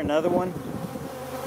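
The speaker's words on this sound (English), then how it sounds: "Big old drones are pouring in here." Honeybee drones buzz loudly and close at the entrance of a beehive, a dense continuous drone with shifting pitch, with a brief spoken remark over it.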